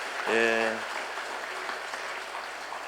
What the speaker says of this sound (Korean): 그분들을 위해서도 격려의 박수가 필요합니다